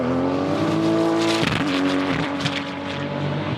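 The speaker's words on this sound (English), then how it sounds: "they described it as a dried peas in a can sound as his 911 went by." A loud Porsche 911 engine drones and rises in pitch, then shifts sharply as the car passes close by, leaving a rough, rattly roar like dried peas in a can.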